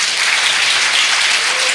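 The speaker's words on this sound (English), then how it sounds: "Please give them a round of applause." Loud, sustained applause from a community audience at a Tuba Christmas concert at the Perkinson Center in Chesterfield County, a full, even roar of many hands clapping without talk.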